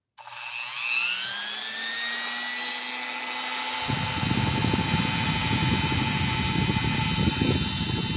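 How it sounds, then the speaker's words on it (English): Soft polisher spinning up and buffing brass, a rising whine settling into a steady high tone, then a denser grinding, rubbing texture as the wheel meets the metal, loud and close with no talk. "So I'm going to use another soft polisher, but it's going to be a little bit more controlled and not throwing out barbs."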